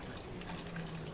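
Water pours steadily into a pot of green plums, a close, soft continuous splashing and trickling that lasts only a moment, with no voices.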